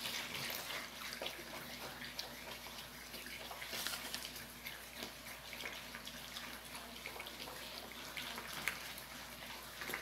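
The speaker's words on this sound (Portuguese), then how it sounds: "Então vamos colocar 100 ml de vinagre de álcool." Alcohol vinegar poured into a dissolving coconut bar soap mixture for homemade aluminium-shine detergent, a steady faint splashing water-like pour running throughout with small clinks, no speech.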